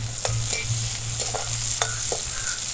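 Salted cowpeas are stirred in a hot pan of tempering. Steady sizzling frying runs throughout, with light scraping strokes of a spoon close by.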